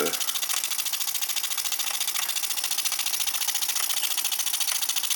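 A Jensen #5 model toy steam engine runs under load driving a Baker fan, giving a steady, close mechanical rattle and rapid chuffing vibration that continues evenly throughout with no talking.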